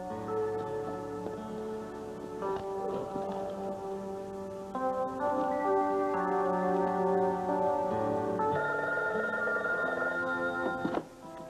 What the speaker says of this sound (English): I'm glad you answered the phone.